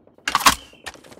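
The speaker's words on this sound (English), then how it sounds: "Changing mag." Magazine reload in the shooter game Call of Duty Mobile: two quick bursts of sharp metallic clicks and clacks, the first louder, with a short pause between them and no talk.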